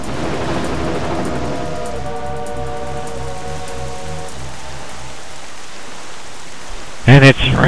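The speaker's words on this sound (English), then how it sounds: "And it's raining." Steady rain hisses across the ocean in The Legend of Zelda: The Wind Waker while sailing, with low droning game music underneath and a brief sharp burst near the end.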